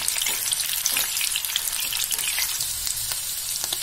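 Potatoes fry in hot oil with a dense, crackling sizzle that holds steady and close throughout, with no other sounds.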